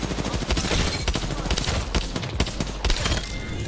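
Dense gunfire in an Apex Legends match, with rapid overlapping shots and loud cracks packed tightly for several seconds, close and harsh, with a voice briefly heard underneath.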